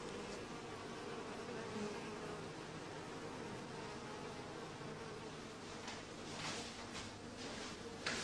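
A small honeybee colony clustered after confinement gives off a steady, soft, continuous hum that stays even and low throughout, with no voices.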